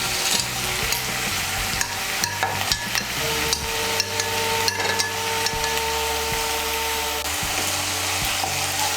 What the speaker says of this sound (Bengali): আদা বাটা, রসুন বাটার কাঁচা লঙ্কা বাটাটাকেও ভালো করে তেলের সঙ্গে মিশিয়ে নেব।